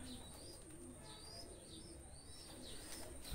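Pigeons coo softly in a loft that holds Shiyalkut and running breeds, with faint chirps over a quiet background hum.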